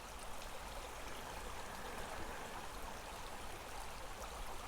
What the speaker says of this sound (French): Écoutez ce mouvement d'eau autour de vous.